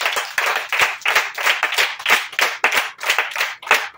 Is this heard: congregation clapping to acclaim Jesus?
yes